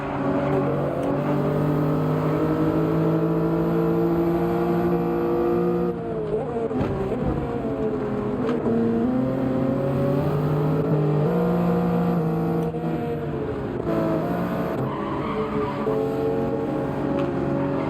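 A Toyota Supra racing in Gran Turismo 7 on a wet Dragon Trail Gardens circuit gives a sustained, loud engine howl whose pitch climbs, dips through gear changes and climbs again, with no voices over it.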